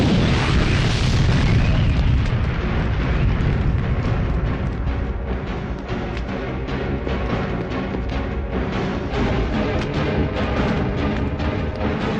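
Bomb explosion in a Telugu action film scene: a loud, sustained roaring blast rumbles on without a break for the whole stretch, dense and heavy with no speech over it.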